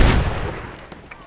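Gunfire in Red Dead Redemption on PC: a loud burst of shots right at the start, then a couple of fainter, sharper reports that trail off over about a second, with no talk.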